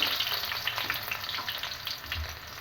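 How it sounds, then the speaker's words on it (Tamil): Garlic frying on a high flame for gobi manchurian: a dense, bright, continuous sizzle with light stirring rustles, close and steady with no talking. "பூண்டு போட்டு ஒரு 2 நிமிஷம் வதக்கிக்கோங்க"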